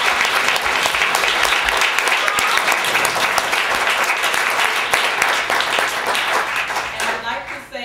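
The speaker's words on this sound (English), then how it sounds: "I'd like to give you all another round of applause" Loud, dense round of applause from an audience honoring a filmmaker panel, sustained clapping close and full throughout before thinning out at the end.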